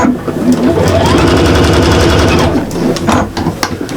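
A sewing machine stitches along the second side seam of a shopper bag through several fabric layers, running loud and steady for most of the stretch, then slowing into shorter bursts near the end.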